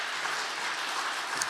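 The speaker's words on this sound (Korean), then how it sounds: "우리 청년들에게 우리 고맙다고 우리 박수 한번 하겠습니다" Steady applause from a church congregation at a Korean Sunday service, a continuous wash of many hands clapping at moderate volume, with a faint voice near the end.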